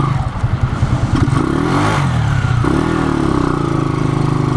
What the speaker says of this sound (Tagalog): medyo maangal-angal pa yung makina kasi sa clutch